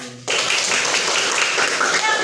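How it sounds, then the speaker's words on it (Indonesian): A classroom of students bursts into loud, dense clapping after a brief moment of talk, the steady burst filling the room for about two seconds. "Oke, tepuk tangan buat diri kita sendiri. Keras."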